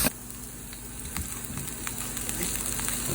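Onions and chanterelle mushrooms sauteing in a pan, a soft, steady sizzle close by with a few light clinks, no talking.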